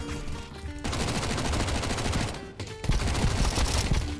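Rapid automatic gunfire rattles in dense continuous bursts in Counter-Strike, loud and close, with a brief pause before another sustained volley.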